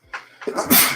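A single person's sneeze: a short sharp intake of breath builds into one loud, hissy burst, close and alone, lasting under a second.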